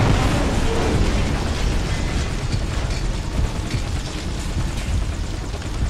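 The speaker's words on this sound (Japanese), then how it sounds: "爆発した" Metal Gear war machine blowing up in Metal Gear Solid V: The Phantom Pain, a loud, dense roaring blast with crackling debris that sustains at steady high level for the whole stretch.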